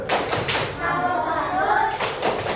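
Fourth-grade classroom children doing the 'tepuk salut' clap, a few quick rhythmic claps and taps mixed with children's voices chanting along, close and lively.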